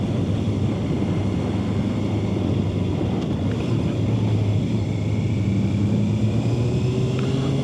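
A 2026 Honda CB650R motorcycle heard while riding, its engine a steady low drone under heavy wind rush, with the pitch rising slightly as it accelerates toward the end.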